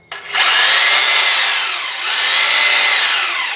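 A Foster FHD 2-26 DRE hammer drill with a normal drill bit runs in reverse, whirring steadily and loudly near the microphone after a brief start, holding a continuous high motor whine with a slight dip in the middle.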